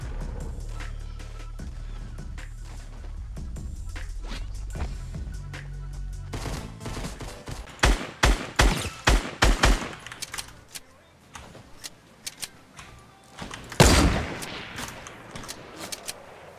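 Rapid bursts of gunfire in the Fortnite video game crack out in a quick run of sharp, loud shots, then a single heavy blast lands near the end over a low background rumble.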